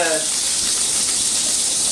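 Bologna sizzling and crackling in a hot pan, a constant bright hiss with a brief faint tone at the start.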